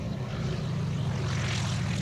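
A Royal Aircraft Factory SE5 biplane engine at an air display gives a steady, droning propeller roar with a strong low rumble, continuous and fairly loud throughout, with no voices.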